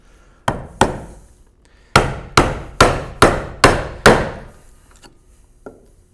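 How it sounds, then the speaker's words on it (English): Sharp wooden strikes of a mallet driving a chisel into timber while building a Moravian workbench, two blows then a steady run of six evenly spaced, ringing hits, followed by a couple of faint taps. "And we're going to go ahead and chop this side"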